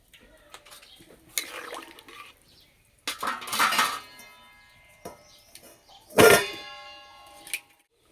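A metal pot of potatoes, water and salt for Kashmiri aloo dum is handled and covered with its lid, producing several loud metallic clanks and rattles with quieter scraping in between.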